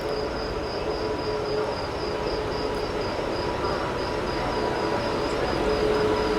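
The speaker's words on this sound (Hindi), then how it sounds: "अपनी राजधानी एक्सप्रेस जो है प्लेटफॉर्म नंबर 6 पर पहुंच रही है।" The Goa Rajdhani Express, hauled by a Pune-shed WAP-7 electric locomotive, arrives at platform 6 with a steady, close rumbling roar and a faint high whine held throughout.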